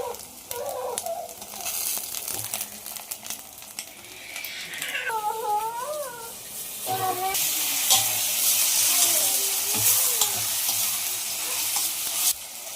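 Chicken pieces frying in a pan with ginger garlic paste for a gongura chicken curry, a steady close sizzle with scraping stirs running throughout, briefly louder toward the end.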